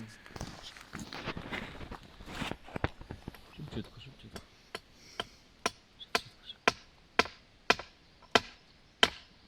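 A steady run of sharp hammer blows driving nails into wood, irregular at first under voices, then settling into an even rhythm of loud, distinct strikes.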